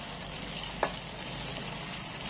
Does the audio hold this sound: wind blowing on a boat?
no